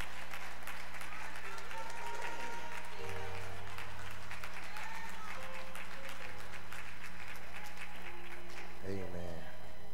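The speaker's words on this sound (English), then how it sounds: "Can we give God a hand clap of praise?" A church congregation at a live service claps their hands in praise, a sustained wash of applause under voices and sustained organ-like tones.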